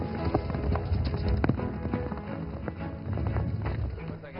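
Cloned horses shift and step on a stable floor outside Buenos Aires, a steady run of close, uneven hoof clops and knocks lasting several seconds, with a voice talking over them.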